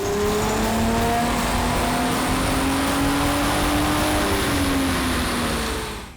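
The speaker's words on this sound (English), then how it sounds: "we're going to show you a stock dyno run to get some baseline horsepower and torque numbers" A stock 2005 Ford Mustang V6 automatic runs hard on a dyno, with a loud sustained engine roar whose pitch climbs steadily through the pull, then drops briefly and fades out at the end.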